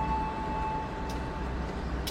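The Brantas passenger train pulls away from a station in a low continuous rumble with a thin steady whine above it, heard fairly close and without speech.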